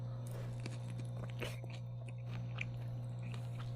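Biting into and chewing Ajinomoto Japanese-style pork gyoza potstickers, soft, close crunches and chews scattered over a few seconds against a steady low hum, with no talking.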